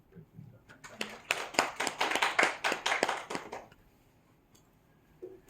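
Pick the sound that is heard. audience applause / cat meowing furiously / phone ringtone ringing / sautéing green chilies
audience applause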